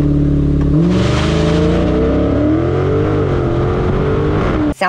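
A 2023 Dodge Charger Super Bee launching hard under launch control, its engine roaring loud and close as the revs climb steadily through a strong pull, cut off abruptly at the end.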